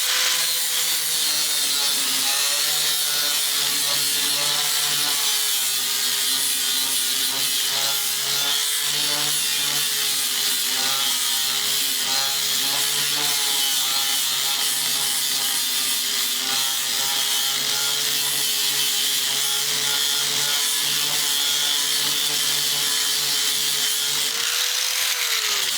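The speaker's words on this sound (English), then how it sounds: "This is a sanding disc. Chews it up pretty good." A sanding disc grinds steadily through material during a hydroponics base build. The rasping, rubbing tone is loud and continuous with a faint rhythmic wobble, and no one speaks.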